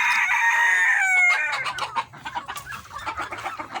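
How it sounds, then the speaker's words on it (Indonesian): Roosters crow loudly in a coop of free-range laying hens, one long crow up front, then a busy chorus of clucking and short calls from the flock, close and dense. "Ini banyak ayam jago sini guys."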